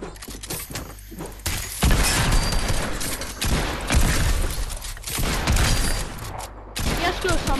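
Pump shotgun fire in the video game Fortnite, a dense run of loud, sharp blasts and impacts filling most of the stretch, with brief quieter gaps and game effects in between.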